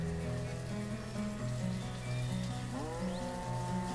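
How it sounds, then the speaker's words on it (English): Steady rain pattering in a survival crafting video game, a continuous hiss over low ambient game music and tones, with no voices. "And now it's raining again."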